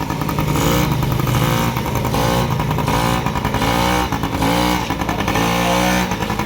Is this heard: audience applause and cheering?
no